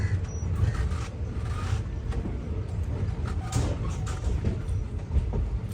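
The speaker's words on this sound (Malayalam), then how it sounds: "ട്രെയിൻ ഇതാ മേട്ടുപ്പാളയം റെയിൽവേ സ്റ്റേഷനിലേക്ക് എത്തിക്കൊണ്ടിരിക്കുകയാണ്" The Nilgiri Express pulls into Mettupalayam railway station with a steady, rumbling roll and occasional clicks and clanks of wheels and carriages, heard up close without any talking.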